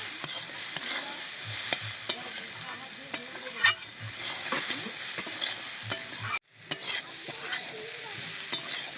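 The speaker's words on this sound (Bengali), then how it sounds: "সেদ্ধ করে রাখা বুট আর আলু। বন্ধুরা, এই লাল লঙ্কার গুঁড়োটা কিন্তু বেশি একটা ঝাল নেই, খুব সুন্দর করে কষে নেব।" Boiled chickpeas and potatoes are sautéed with red chili powder for a ghugni curry, giving a busy close sizzle and frequent scraping stirs. The sound drops out briefly near the end, then resumes. No one speaks.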